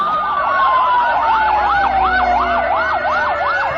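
Ambulance siren blaring up close, its fast yelping sweeps cycling steadily and loudly for several seconds, with a faint vehicle rumble underneath and no talking.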